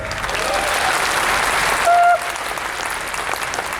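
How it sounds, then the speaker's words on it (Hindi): Applause from an audience at an academy program in Bhilwara fills the room as a dense, steady wash of clapping. A brief tone cuts in near the middle. "तालियां इतनी ढीली नहीं होनी चाहिए कि आप नंबर 1 कंपनी के मालिक हैं।"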